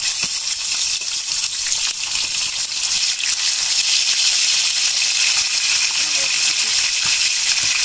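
Catfish fried in hot oil over an outdoor fire, a steady broadband sizzle and crackle running continuously and loudly throughout, with faint voices now and then beneath it.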